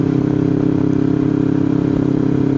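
Kawasaki Ninja 250 FI engine running steadily while riding, a continuous loud mid-pitched drone with a fast, even pulse throughout and no talk.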